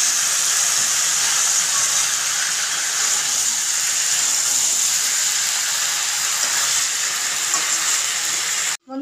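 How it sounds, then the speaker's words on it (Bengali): Potatoes and meat sizzle and fry in a pan over a high gas flame, a loud, steady crackling hiss that runs without a break and stops abruptly at the end, with no talking. "আলু আর মাংস খুব সুন্দর করে কষা হয়ে গেছে"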